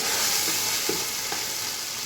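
Ground green chili and salt frying in a pan for pulao, a steady close sizzle with a few soft stirring scrapes and taps over the hiss.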